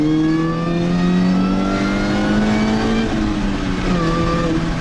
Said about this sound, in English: one with a supercharger that actually whines like a powerful supercharged muscle car